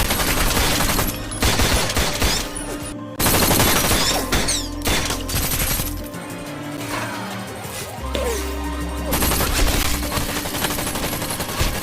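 Automatic gunfire from a film scene, with a gunman spraying bullets at wealthy people. Dense bursts of rapid shots run through the whole stretch over a loud, music-laden soundtrack with crashes and no clear speech.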